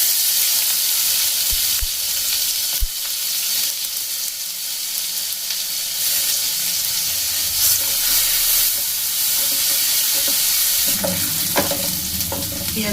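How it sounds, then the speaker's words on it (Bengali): Onions frying in hot oil with bay leaf, dried red chili and panch phoron, a loud continuous sizzle with occasional stirring clinks against the pan. "তেজপাতা, শুকনো লঙ্কা, পেঁয়াজ দিয়ে দিচ্ছি একটা বড় সাইজের"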